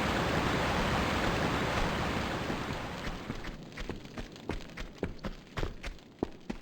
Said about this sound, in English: we pull the square object, and by that drain the whole water out of that bathtub